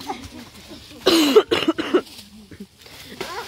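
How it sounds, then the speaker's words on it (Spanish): A man with a worsening cough hacks several times in a row, harsh and close, a rough cluster of bursts followed by a softer cough or two. "me está agarrando más tos"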